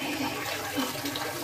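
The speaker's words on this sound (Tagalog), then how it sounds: "Shower." Indoor water runs steadily from a shower, a constant hissing spray that stays fairly even throughout, with no voices over it.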